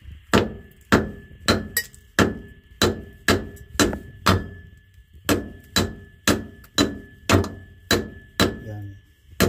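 Hammer blows on a strut bolt while changing struts on a 1990 Ford F150 with the 4.9L engine, about twenty sharp metallic strikes at an even, steady rhythm, close and distinct.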